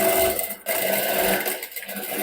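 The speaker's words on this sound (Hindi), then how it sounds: "अब हम इसको मशीन पे चलेंगे" An electric sewing machine stitches a blouse neckline, running in a steady, loud, fast whir that breaks off briefly near the middle and then resumes without talk.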